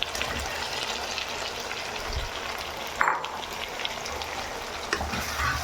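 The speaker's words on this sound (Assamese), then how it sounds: "বন্ধুসকল দেখিছেনে, চিকেনটো আধা ফ্ৰাই হৈ গৈছে" Half-fried chicken with kohlrabi and potato sizzles steadily in a hot pan, with a continuous crackling hiss and a brief clatter of stirring partway through, and no voices.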